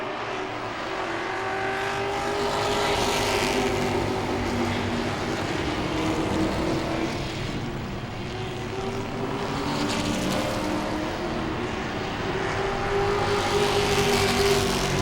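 Grand Stock cars race at Langley Speedway, battling side by side for the lead. Their engines drone and swell in repeated waves as they pass, heard from some distance with no voices.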